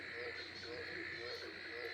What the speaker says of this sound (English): I believe it might be an ornate burrowing frog.